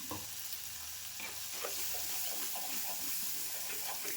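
Tomato, garlic and ginger paste is stirred into onions frying in a pan, giving a continuous close sizzle with scraping stirs throughout and no talk.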